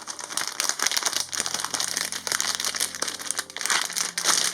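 Taped packaging is pulled off a new PC motherboard, giving close, continuous crinkling and crackling of plastic with a few sharper rustles throughout.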